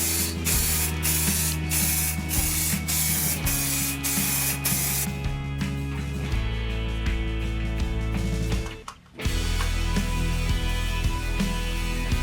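Spray paint hisses onto a wooden clock with brass inlay in loud, sustained bursts, mixed with ratcheting mechanical clicks and a steady hum, with a short pause near the end before spraying resumes.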